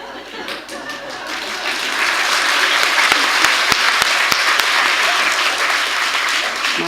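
Conference audience clapping that swells from scattered claps into full, sustained applause, fairly loud, with a few sharp close claps standing out.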